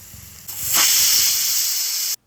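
A pressure cooker on a stove vents steam after its whistles while pork cooks for a pepper fry, giving a loud, steady hiss that swells after half a second, holds for about two seconds alone, then cuts off abruptly.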